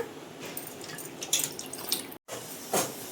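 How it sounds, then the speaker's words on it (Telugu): Gongura leaves are rinsed under running water in a kitchen sink, a steady close trickle with splashes and drips, a brief cut-out, then a louder splash near the end. "గోంగూర మాత్రం శుభ్రంగా కడగండి, ఎందుకంటే చిన్న చిన్న ఇసుకే ఉండొచ్చు కదా"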